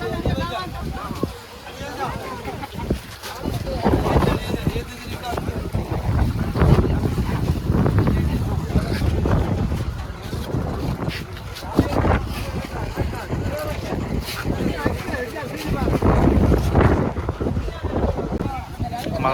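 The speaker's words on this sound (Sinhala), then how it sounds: "මේක මේ ඩෙල්ෆෝල්ඩ් මේ බෝට් එක" A boat called the Delfold crosses open water near Nagadeepa (Nainativu) island, with steady rumbling engine and hull noise and heavy wind buffeting the microphone throughout. Voices are heard over it.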